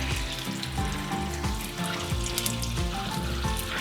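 Butter browning in a pan bubbles hard and sizzles with a busy, crackling roar and scattered pops, loud and close, running continuously with no voices.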